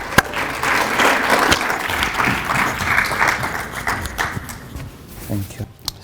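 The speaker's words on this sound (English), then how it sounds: "Please give a round of applause to Rabbi Yuhanan." An audience at a talk event applauds for a rabbi taking the stage. The clapping is moderate and uneven and fades toward the end, with a few louder individual claps and some shuffling.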